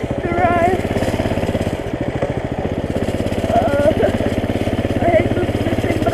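A Coleman CT200 mini bike's small single-cylinder engine chugs and idles steadily nearby, with a rapid even putter that swells slightly at moments.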